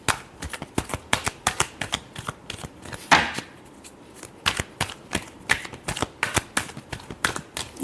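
Tarot cards are shuffled by hand in quick, uneven bursts of crisp riffling clicks for several seconds. The sound is close and moderately quiet, with no talking.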